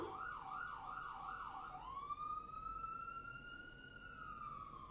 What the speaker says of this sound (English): Do you hear a siren?